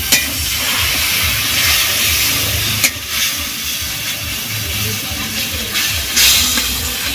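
Sesame wash water poured into a pan of ground ginger, cumin and mustard paste while cooking small mourala river fish sets off a steady, fairly loud hissing sizzle that runs the whole time, with a couple of brief clicks.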